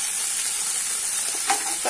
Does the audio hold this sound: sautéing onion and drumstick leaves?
yes